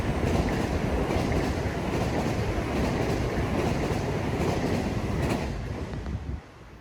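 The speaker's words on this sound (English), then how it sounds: "catch Oyster Bay Branch Train number 558, pass through the station on its way to Oyster Bay" An LIRR Oyster Bay Branch diesel train, one locomotive with four multi-level coaches, rolls through a station with a loud, steady roar and rumble that fades at the end.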